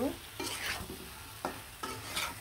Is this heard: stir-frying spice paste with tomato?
yes